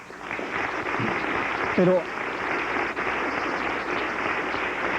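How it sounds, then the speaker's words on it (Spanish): Audience applauding panelists at a talk: a continuous wash of clapping that fills the whole clip at moderate level, with a voice briefly heard over it. "quisiera pedir un aplauso para ellos"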